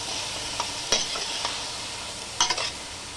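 Vegetables with salt and spices are steamed and stirred in a pan as a pizza topping. A soft, steady sizzle hiss continues throughout, with a few brief spoon scrapes and clinks and no voices.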